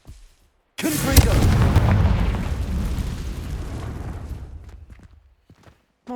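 Confringo fire spell exploding in Hogwarts Legacy: one loud, close blast that bursts out after a quiet moment, then rumbles and crackles as it fades over several seconds, with a brief quiet gap before another sound starts at the end.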